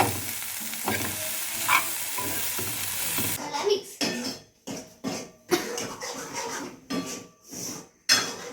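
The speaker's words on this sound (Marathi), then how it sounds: "पनीर पण भाजून घेतलेलं असं हे बघा हे पनीर भाजलं आणि मटार पण असं" Paneer cubes and green peas frying in a pan, a close steady sizzle followed by repeated scraping strokes of a spoon stirring against the metal in an uneven rhythm, with no talking.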